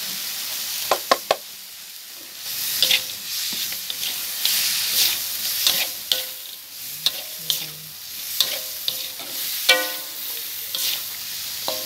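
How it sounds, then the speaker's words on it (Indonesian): Lobster sambal sauce with spring onions frying and being stirred in a pan, a steady sizzle broken by repeated sharp knocks and scrapes of the utensil against the pan at irregular intervals. "Setelah itu kita aduk lagi. Kemudian kita masukkan daun bawang."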